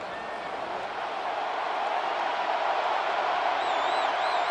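Stadium crowd roaring steadily in a college football video game, Colorado at Ohio State, a continuous loud wash of cheering that builds slightly toward the end with a few whistles on top.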